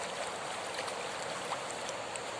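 River water at a fishing spot on the Perayu river flows with a soft, steady rushing wash, faint and continuous with no voices.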